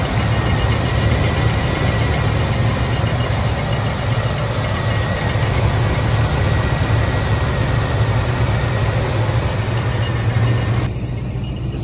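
A 454 big block V8 in a 1974 GMC Suburban idles steadily under an open hood, a loud, even engine drone with a faint light tinking mixed in, cutting off near the end.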